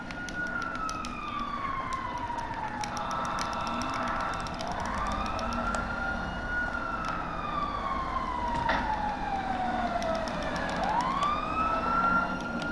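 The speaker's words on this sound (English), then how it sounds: "Jesus, there's so many fucking police cars." Police sirens wail in Grand Theft Auto V, several overlapping sweeping tones rising and falling over a steady rumble of traffic and engines, loud and continuous.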